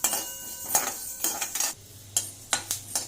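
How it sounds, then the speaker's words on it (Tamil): Coriander seeds and spices with asafoetida dry-roasting in a pan for dhania podi, giving sharp, irregular crackles and clinks close by, with no talking. "இப்போ வறுத்தாச்சு, படபடன்னு சத்தம் வருது பாருங்க."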